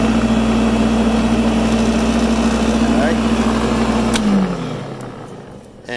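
A Greenworks 14-inch 10-amp corded electric dethatcher power rake runs with a loud, steady motor hum and whir, then spins down and fades toward the end.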